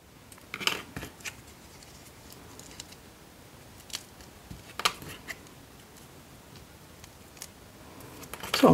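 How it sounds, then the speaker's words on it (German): Small paper stickers pressed out of metal cutting dies by hand, a scatter of faint scratchy clicks and ticks at irregular spacing over quiet background, no talk. "jetzt hole ich da meine kleinen Sticker raus aus den Stanzformen"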